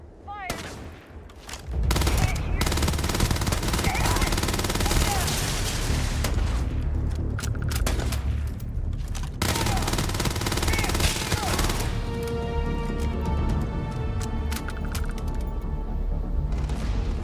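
Sustained gunfire in Starfield, loud rapid bursts and fusillades of shots with heavy booms that roll on for many seconds after a brief quiet start, dense and close, with a voice briefly heard under the shooting.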